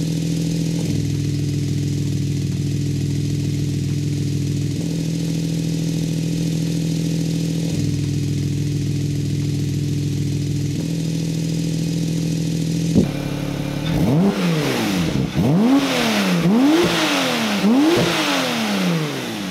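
A Porsche idles with a steady low drone, then its valved exhaust opens and it revs repeatedly, the engine note rising and falling in loud, rhythmic sweeps.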